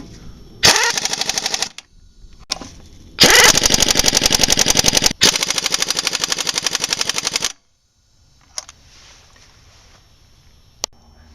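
Impact wrench driving lug nuts on a wheel in a star pattern, in loud rapid hammering bursts of about one to two seconds each, several separated by short pauses, with the final bursts brief and fainter before quiet.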